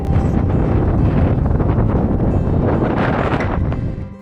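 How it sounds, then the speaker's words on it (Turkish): Strong Sahara Desert wind gusts roar across the microphone in a continuous rushing blast over sand, buffeting and rustling, with no voices. "Bazen sadece kumların ve rüzgarın sesini duyuyorsun"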